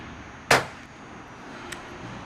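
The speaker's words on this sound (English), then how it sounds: "using a standard pop rivet tool, these are 1/8 inch pop rivets that have been painted to match the roof" A standard pop rivet tool sets a painted 1/8 inch pop rivet through metal roofing Z-trim, giving a single sharp, close snap followed by a much fainter click moments later.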